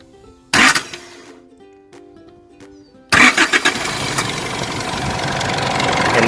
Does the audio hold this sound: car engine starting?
yes